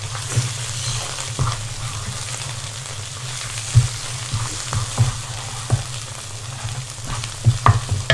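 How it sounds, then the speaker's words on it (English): Prawn noodles frying in a shallow pan, a steady close sizzle broken by repeated clinks and scrapes of stirring, with no talk. "Stirring things in like shallow pans like this."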